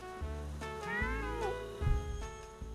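Cartoonish cat meows from a video game character ring out clearly with gliding, harmonic pitch, several short mews and a longer rising-falling call over a steady game soundtrack hum.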